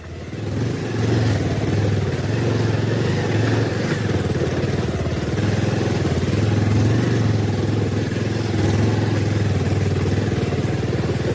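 A motorcycle rides over a rough mountain road between Siliguri and Mangan. Its engine drones steadily and close, with rattling and clatter from the bumpy surface and nobody speaking.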